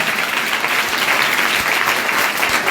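A school audience at a Kota senior secondary school breaks into dense, steady clapping, loud and continuous throughout with no voices over it.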